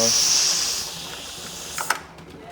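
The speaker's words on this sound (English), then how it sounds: "You can hear because it's still pushing out the same amount of steam." A pressure canner vents a steady hiss of steam while whole tomatoes are processed, loud at first then fading, ending with a few faint metallic clicks.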